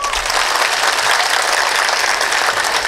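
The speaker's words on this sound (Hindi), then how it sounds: "उनके लिए सब तालियां बजाएं" Loud, steady applause from an audience at a public speech in Balapur City, dense clapping sustained evenly throughout with no talk over it.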